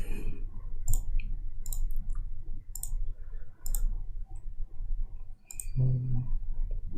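A computer mouse clicks repeatedly while someone works in CorelDraw, with about seven sharp, distinct clicks spaced unevenly over a low background hum.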